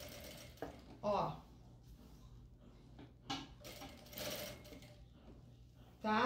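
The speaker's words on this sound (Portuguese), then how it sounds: "Aí a gente dá uma costura nele em volta." A sewing machine stitching around a piece of fabric for a fish-shaped placemat, giving short bursts of mechanical whirring and clatter between quieter pauses, with a voice talking in between.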